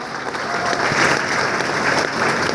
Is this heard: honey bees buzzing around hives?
no